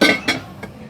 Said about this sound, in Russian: Здесь крышечки поднимаются.